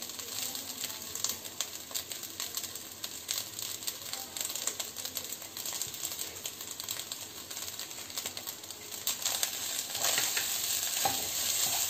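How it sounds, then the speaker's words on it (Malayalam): Cooked rice stir-fried and tossed in a pan over a high flame for fried rice with vegetables, a steady close sizzle broken by frequent scraping and clinking of the spatula, with no one speaking. "നേരത്തെ ഹൈ ഫ്ലെയിമിൽ തന്നെ ഇട്ട് മിക്സ് ചെയ്തെടുക്കാം."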